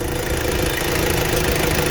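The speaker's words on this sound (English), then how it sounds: "that's idling away perfectly now" A steady, rumbling diesel engine of a Ford Courier idles evenly with a faint rhythmic knock after new injectors are installed and bled, close by and unchanging.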